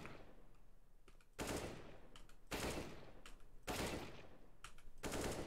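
Short bursts of rifle fire in Counter-Strike, several tight volleys spaced about a second apart, loud and close, with brief pauses of quieter game ambience between them.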